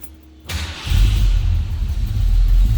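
A 1973 Ford Mustang Mach 1 V8 cranks and fires, then settles into a loud, deep rumbling idle close to the microphone.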